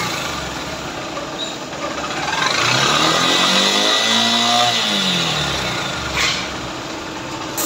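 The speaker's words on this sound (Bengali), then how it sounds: "এই তো বাইকের সাউন্ড শুনলেন" A motorbike engine, freshly repaired with a new bearing, runs loud and close, its steady drone rising in a smooth rev and then falling back before settling to a steady hum.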